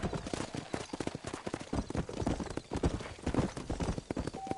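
Horse hooves clip-clopping in Red Dead Redemption, a brisk, rhythmic run of hoofbeats close up and continuous throughout, with no voices.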